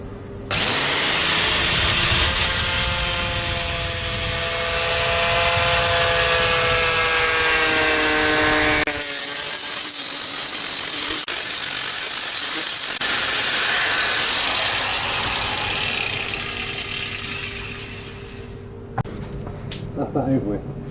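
A power tool whines steadily while grinding a segmented purpleheart and maple wood bowl, loud and close, then cuts out and briefly restarts before winding down. There is no talking over it.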